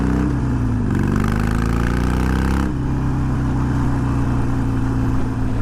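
Harley-Davidson Iron 883 motorcycle fitted with Wyatt Gatling slip-on mufflers, a loud, close, steady engine drone while riding, with a brief shift in pitch as the revs change, continuous with no talking.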